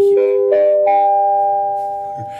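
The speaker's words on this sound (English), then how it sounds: "that's the bell." A bell rings out with a few clear overlapping chime tones, struck in quick succession and left to ring and slowly fade, loud and close with no talking.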